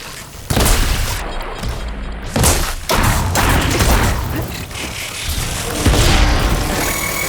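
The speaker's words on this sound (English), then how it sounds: "See those glowing crystals? Takes one hit to detonate." Glowing crystals detonating in Horizon Forbidden West, a series of deep booming blasts and thumps in quick succession, loud and close, with in-game battle noise between them.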